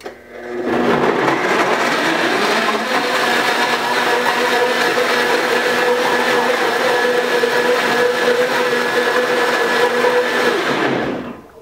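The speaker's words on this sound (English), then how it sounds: "So I'm using a high-powered blender." A powerful high-powered blender liquefies watermelon, whirring loudly and steadily for about ten seconds, starting abruptly and cutting off at the end, with a constant high-pitched motor drone.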